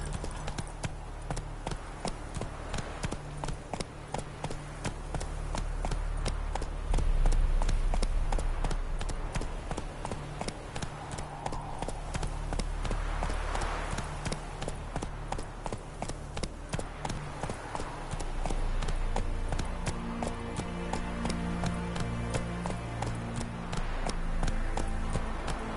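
A horse gallops steadily through Witcher 3, its clip-clop hoofbeats forming a fast, even rhythm that runs the whole time, loud and close with a low rumble underneath.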